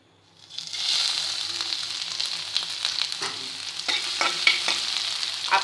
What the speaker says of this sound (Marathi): तर आपण याच्यामध्ये थोडासा अद्रक टाकणार आहे।